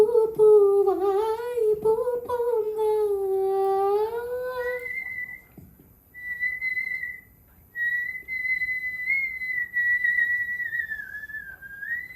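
Several people in a whistling band whistle Kollywood (Tamil film) songs as a performance challenge: a melodic tune is carried in the first half alongside an upper whistled line, which then continues alone, clear and close with brief breaks.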